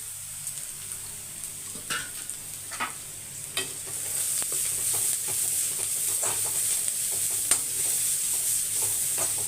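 One medium carrot stir-frying in a pan, a steady bright sizzle with repeated scraping stirs of a spatula at irregular intervals, close and moderately loud with no talking.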